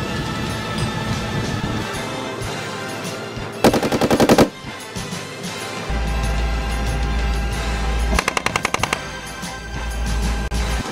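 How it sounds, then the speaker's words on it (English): Bradley fighting vehicle weapons fire during gunnery training: two loud, rapid bursts of automatic fire ring out over a steady vehicle engine rumble, the first around the four-second mark and the second near the end. "They must engage with multiple weapon systems and fire from their position."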